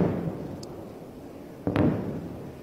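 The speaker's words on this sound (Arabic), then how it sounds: "نعم هناك أسمع دوي قصف من هذه الجهة" Shelling during a live news broadcast sounds as a distant, low boom that jumps out of a steady rumbling background partway through, then rolls on and fades.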